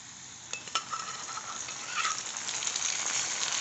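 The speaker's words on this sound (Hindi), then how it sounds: "अब मसाला को मैं अच्छी तरह से भूनूंगी।" Meat masala, turmeric and salt sizzle in a pan with browned onion, a steady fry with a few stirring knocks early on, close and fairly quiet, with no voices.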